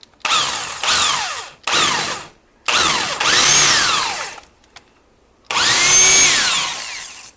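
A power drill driving a screw, using the wrong bit, whirs in four bursts of rising and falling pitch, close by, with short pauses between runs.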